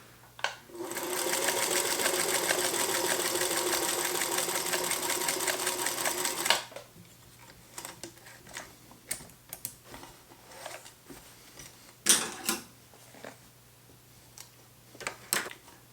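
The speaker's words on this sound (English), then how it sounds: "sewing the whole project with that because it just did a much better job" Featherweight sewing machine stitching through a couple of layers of fabric, a fast, steady mechanical chatter for about six seconds, then stopping, followed by scattered handling clicks and taps.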